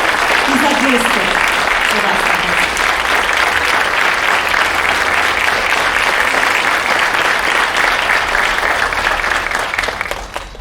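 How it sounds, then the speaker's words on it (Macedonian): Applause for theatre and film artist Zora Gjorgieva at a festival opening ceremony, a dense, loud, sustained clapping from a large audience lasting about ten seconds, with a voice briefly heard early on before it tapers off. "Еден аплауз за оваа голема уметница и за жестот"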